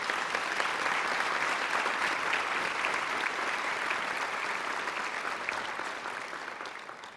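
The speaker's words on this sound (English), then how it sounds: "I want to take a moment to applaud them and to recognize them as well." An audience at a graduation convocation claps in a dense, steady wave of applause that fills the room, then slowly fades toward the end, with no voices over it.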